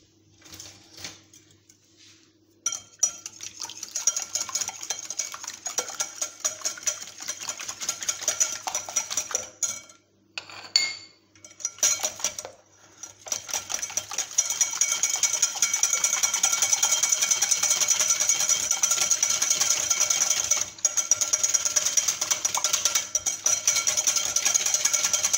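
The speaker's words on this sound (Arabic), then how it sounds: "من بعد ما هرست 4 ديال البيضات غادي نطربهم مزيان، طرب اليدوي فقط" Four eggs are whisked by hand in a bowl, a rapid, steady clatter of the whisk against the bowl that starts and stops a few times, then runs on loud and close.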